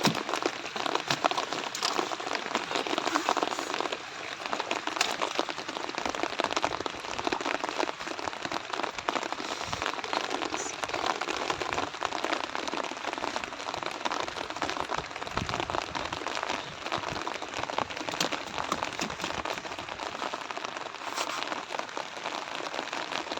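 Heavy downpour during a fishing outing, a dense steady hiss of raindrops pattering on surfaces close by, unbroken throughout with no voices.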